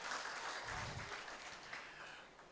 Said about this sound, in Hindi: इस माहौल को जोरदार तालियां एक बार इनके लिए हो जाए।